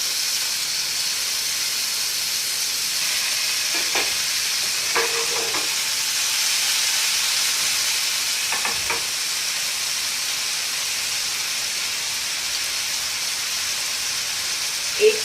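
Soya chunks and paneer tikka on toothpick skewers sizzle in a hot frying pan, a steady loud hiss throughout with a few faint clinks and taps.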